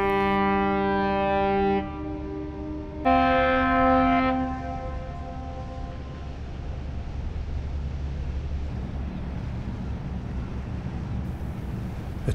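Several ship horns blast in long sustained tones across Antwerp port, welcoming the heavy-lift ship Jumbo Kinetic carrying six new tugboats, with two overlapping horns swelling loud before fading into wind and distant harbour rumble.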